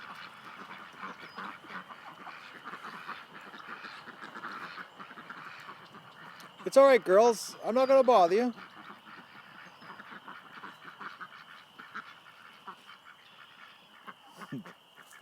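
Ducks break into a burst of loud quacking for a couple of seconds over steady background noise, with someone speaking softly nearby.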